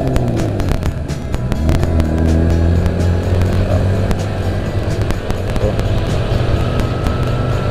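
Yamaha Mio scooter engine fitted with a Shogun Kebo CDI, droning and rising as the throttle opens while riding, loud and close with road noise throughout.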